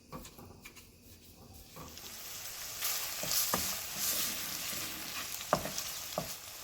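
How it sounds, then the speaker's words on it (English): Ground beef seasoned with smoked paprika sizzles in a pan on the stovetop, the frying hiss swelling louder midway, with scattered spoon taps and scrapes as it is stirred, nearby and without talking. "Now I'm just going to combine and continue to cook my ground beef."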